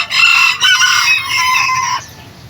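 A rooster crows once, loud and close, a sustained call near a chicken farm by a fishing spot in Barangay Kalawaan, with no talk over it.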